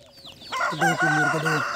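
An Aseel rooster among free-range desi chickens in an open-area farm crows once, loud and near, a strained harmonic call that rises and holds for about a second.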